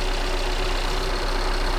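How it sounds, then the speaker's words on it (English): A car engine with a cylinder misfire idles roughly and shakes, a loud, steady, uneven rumble running throughout with no voices. "As you can see, the engine running right now, and it's shaking for me."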